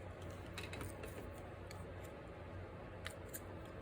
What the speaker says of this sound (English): Oh, my small scissors, they're there